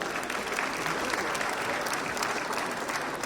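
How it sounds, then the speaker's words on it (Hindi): Sustained applause from a large audience at the 68th National Film Awards ceremony, a dense, even wash of clapping that holds steady and loud throughout with no break. "स्वर्गीय श्री सच्चिदानंदन केआर जी के सम्मान स्वरूप जोरदार तालियां।"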